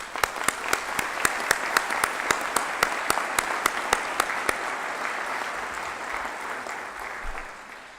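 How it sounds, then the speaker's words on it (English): A graduation audience applauds new doctoral graduates at a hooding ceremony: broad continuous clapping with several sharp, loud individual claps standing out near the microphone in the first half, then a smoother crowd wash. "please join the staff and the deans of the graduate school in applauding our new doctoral colleagues for all of their achievements"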